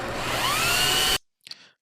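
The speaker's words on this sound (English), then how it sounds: "you want to tape it up first and then drill like he's got over here" A power drill bores through taped carbon fiber on a C6 Corvette Z06 build: a loud, close, high whine rising in pitch for about a second, then it cuts off, followed by a faint clunk.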